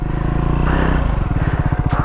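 A Triumph Scrambler 400x single-cylinder motorcycle engine loud and close on an obstacle course, idling with a throbbing chug, then settling into rapid, evenly pulsing firing beats as it is worked over a tube obstacle.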